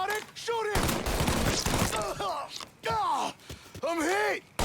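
Gunfire in the Mafia 3 video game, sharp broadband bursts crackling in quick succession over shouted voices and yelling, loud and close amid a chaotic firefight.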